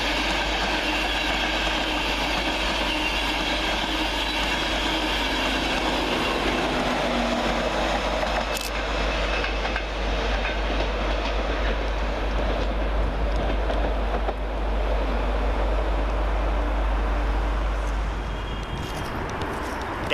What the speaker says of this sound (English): Next through the middle, pushed by 91-106 for LNER, is 1 Alpha 26 from Leeds to London King's Cross.